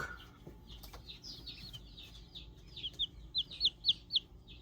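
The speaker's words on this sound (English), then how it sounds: "these are some bonus chicks that I hatched out." Newly hatched chicks peep in a quick series of high, bright chirps that grow louder and more insistent toward the end, close by against a quiet indoor background.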